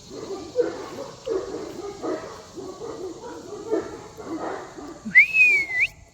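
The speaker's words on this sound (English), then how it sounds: "They must be barking at my son." Pet dogs bark in short, scattered yips and woofs at moderate distance through the scene, with a whistle-like tone rising near the end.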